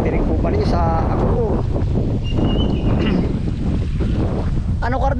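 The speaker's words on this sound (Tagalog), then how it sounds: "Yan ang lakas ng hangin to." Strong wind buffets the microphone in a constant low roar, with voices and scattered outdoor sounds faint beneath it.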